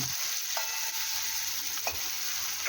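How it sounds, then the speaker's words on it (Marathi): Salted, marinated bitter gourd frying on high flame until crisp, a steady bright sizzle with a few light taps of a spatula, close up and alone. "हाय फ्लेमवर आपल्याला हे छान असे कुरकुरीत फ्राय करून घ्यायचे आहे"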